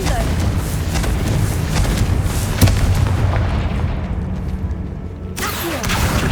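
Confringo spell blasts in Hogwarts Legacy, producing a loud booming explosion with a sharp crack near the middle over a rumbling, dense game soundscape that briefly thins before swelling again.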